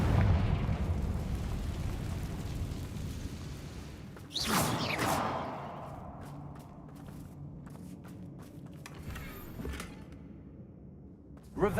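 The Confringo fire spell fires in the Hogwarts Legacy video game with a sharp whooshing blast partway through, followed by scattered impacts and footstep-like thuds.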